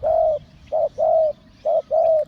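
Dove cooing on the ground after leaving a breeding cage: five close, clear coos in a rhythmic pattern, one long note, then a short-long pair repeated twice, with quiet pauses between and no talking.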